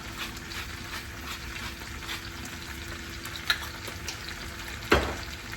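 Potatoes with peppers, garlic and onion frying in a pan, a steady close sizzle with occasional louder clatters as the pan is stirred, and no voices over it.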